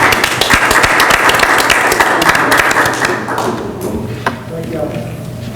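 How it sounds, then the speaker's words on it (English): Loud, close applause at a city council meeting honoring a retiring staff member, with dense clapping and a few thumps, thinning toward the end as voices begin. "Let's give him a round of applause."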